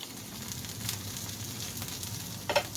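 Monte Cristo sandwich frying in a pan, a soft steady sizzle with faint crackles and a brief louder spatter near the end, quiet and close with no voices.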